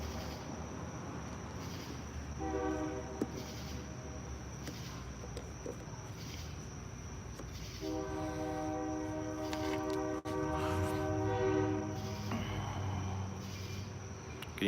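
A distant train passes with a long horn sounding twice in sustained blasts, over steady rumble and chirping insects in the background.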